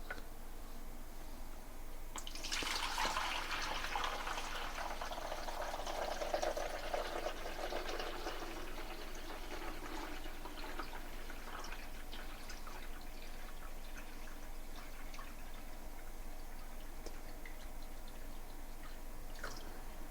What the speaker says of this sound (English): we're gonna go ahead and add some water in here